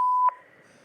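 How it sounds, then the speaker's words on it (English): A single answering-machine beep: one clean, steady electronic tone lasting about a quarter second, then a faint click and quiet tape hiss. "message after the beep."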